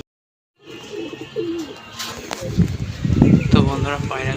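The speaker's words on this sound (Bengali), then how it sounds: "পাখিগুলো নিচে এসছে আচ্ছা পাখি এসছে আবার ভয় খেয়ে গেল পায়রাগুলো" Pigeons coo close by in a low, rolling rhythm, with wingbeats and some shuffling as the flock lands and takes off again, and a little background activity underneath.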